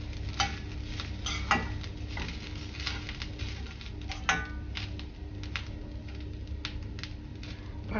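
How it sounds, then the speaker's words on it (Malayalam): Fennel seeds roast in a pan, giving a soft steady sizzle with repeated scraping and stirring clicks from a spoon against the metal, close and fairly quiet with no talking. "പെരുംജീരകം ഇട്ടു. ഇത് നന്നായിട്ട് ഗോൾഡൻ ബ്രൗൺ ആകുന്നത് വരെ വറുത്തെടുക്കുക"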